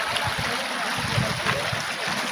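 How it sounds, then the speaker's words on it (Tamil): Glacial meltwater stream at Sonamarg, Kashmir, rushing steadily nearby as a continuous broadband wash of flowing water with no voices. "தண்ணி ஐஸில் கரையிறதெல்லாம் இந்த இடத்துல தான் ஒரு நதியாக உற்பத்தி ஆகி இதில் போய்கிட்டே இருக்குது"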